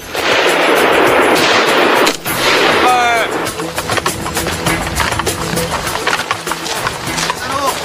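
Gunfire at a military shooting practice range, a dense burst of loud shots followed by repeated sharp reports and clatter, with a narrator speaking over the firing.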